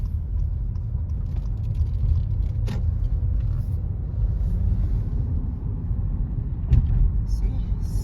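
A car rolls through a residential neighborhood in Sandy Springs, Atlanta, its low engine and road rumble steady throughout, with a couple of brief knocks or bumps along the way.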